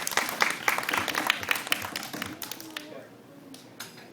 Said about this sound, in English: I'll give him a real round of applause.